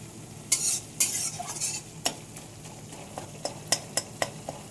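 A spatula stirs a frying spice masala in a pan as crushed garlic goes in for egg potato curry, producing a soft sizzle punctuated by a series of sharp, close scraping and clinking strokes.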